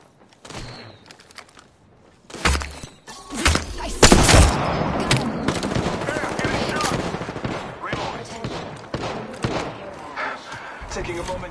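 Incoming gunfire strikes the player in an online shooter: a few sharp early shots, then heavy sustained bursts and impacts that stay loud and busy through the rest of the clip, with a voice talking beneath.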